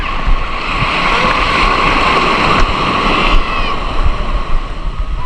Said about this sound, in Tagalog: Oh, malalaki na ang alon